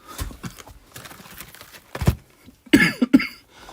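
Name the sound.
coughing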